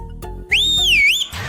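A loud, clear whistle in a Telugu comedy film scene rises and bends in a single sustained note of about three quarters of a second, with brief knocks and background noise on either side.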